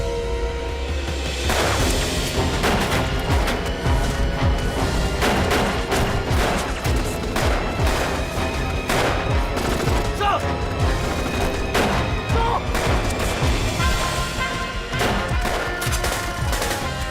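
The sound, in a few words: gunfire from a war movie battle scene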